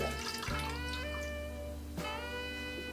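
Water pours steadily into the base of a double-layer steamer for Chinese-style eggplant, a close, continuous splashing stream with a brief change partway through, heard alone.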